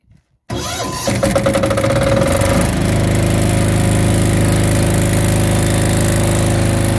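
A SENCI SC7500Q generator engine, a 2023 unit, starts abruptly after a brief quiet moment and settles into a loud, steady running drone with a constant mechanical hum through to the end.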